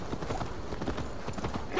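Horse hooves clip-clop in a steady gallop-like rhythm in Assassin's Creed Valhalla, a dark 'demon' steed ridden at pace, the thuds fairly close and continuous with a brief faint whinny.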